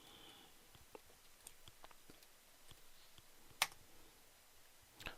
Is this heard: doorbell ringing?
no